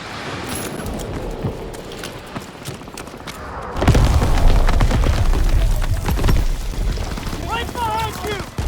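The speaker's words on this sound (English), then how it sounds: "Grenade out!" A grenade detonates in the Call of Duty WW2 D-Day beach mission, a sudden loud boom that cuts in midway over ongoing battlefield noise and shouting soldiers, leaving a heavy rumbling wash with scattered gunfire afterward.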